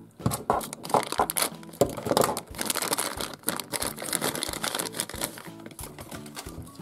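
A Robocar Poli surprise toy packet being torn open by hand: dense, close plastic crinkling, crackling and tearing that runs almost continuously with brief pauses, with no speech.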